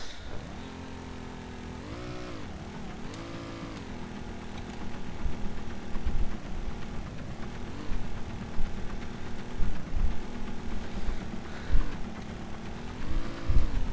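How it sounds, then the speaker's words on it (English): A vehicle engine in the game StormWorks hums continuously with harmonic tones that rise and fall in pitch as it revs, steady and close, with soft clunks, no talk. "So let's kick the engine on again."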